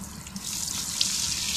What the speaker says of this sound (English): Just give the chain a rinse again.